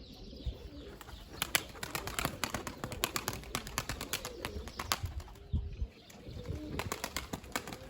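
Pigeons, including stray tumbler pigeons, flock overhead outdoors with soft cooing and a dense run of quick clicking and fluttering bursts.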